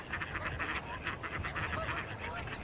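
Colorful wild ducks in the red desert country of Utah quack in a steady, busy chorus, the calls overlapping loudly and continuously throughout.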